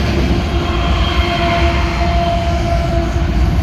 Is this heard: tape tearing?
no